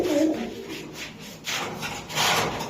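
Pigeons, Pakistani Girabaz and Gorra breeds at a market stall, give soft low cooing calls in short repeated bursts at close range, with faint rubbing sounds and no clear talk.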